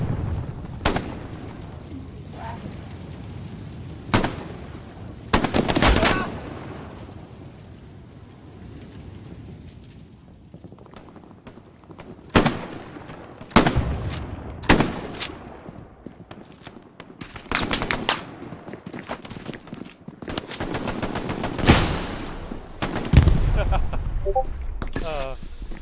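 Gunfire and rocket explosions in a Fortnite match, sharp loud blasts and shots scattered irregularly among quieter game noise, several close together near the end.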